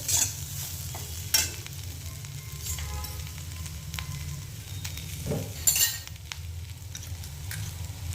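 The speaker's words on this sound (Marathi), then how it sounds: "दाण्याचं कूट घालणार आहे 1 चमचा, परतून घेणार आहे" Sabudana khichdi with peanut powder is stirred and sautéed in a pan, a soft steady sizzle under a spoon scraping and clinking against the metal a few times, close and fairly quiet.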